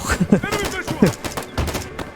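Gunfire in a Vietnam War video game: several sharp shots crack out in a loud burst, while someone speaks over the shooting.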